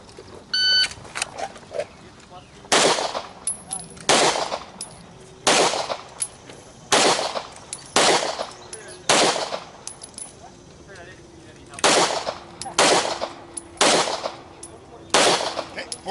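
Pistol fired on a range during a shooting drill with a red-dot sight: about a dozen sharp, loud single shots at roughly even intervals, each a crisp crack with a brief echo, separated by quiet pauses.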